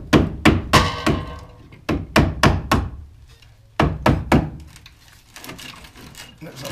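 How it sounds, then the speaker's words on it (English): A chisel is hammered between the steel panels of an MGB GT's sills during restoration, giving sharp, close metallic thunks in quick bursts of two to four strikes separated by short pauses. "Just going to have a go with a chisel just to try and get in between the two parts."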